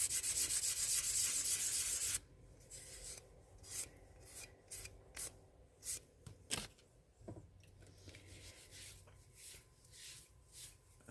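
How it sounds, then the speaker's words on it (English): Hand sanding of a cast resin piece, a dry rasping scrape in short uneven strokes after a brief burst of louder noise, close and alone with no talk. "make sure that's sanded off good"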